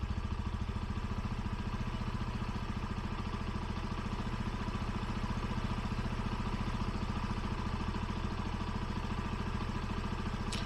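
A Bajaj Boxer motorcycle fitted with a vacuum carburetor idles steadily, its even low engine putter holding a constant pace throughout without rising or dipping.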